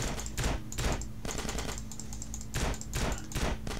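Rapid bursts of automatic gunfire from GTA San Andreas crackle in several loud clusters separated by brief gaps, with no voices during the shooting.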